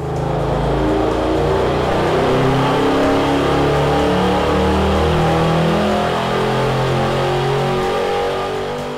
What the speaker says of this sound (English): Now we will fill the engine with the leading synthetic 5W40 oil and make our dyno run.